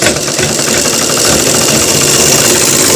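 A sewing machine runs steadily while stitching a pant belt, giving a loud, continuous mechanical whir with a fast rhythmic vibration that lasts the whole stretch without pause.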